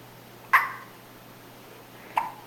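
A newborn baby hiccups twice, each one short and sharp and about 1.6 seconds apart, near and fairly quiet against a faint steady hum.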